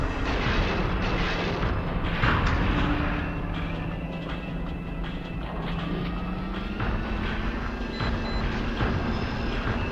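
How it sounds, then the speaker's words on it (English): Enemy fire in Steel Battalion rumbles and pops amid the low droning hum of a mech cockpit, with repeated muffled blasts over a steady engine tone that bends slightly in pitch. "They're trying to shoot at me"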